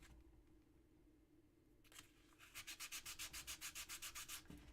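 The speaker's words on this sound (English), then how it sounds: "Let me give a little bit of sanding." Quiet hum, then rapid back-and-forth rubbing of sandpaper on handmade reversible earrings in an even rhythm, about a dozen strokes, close by.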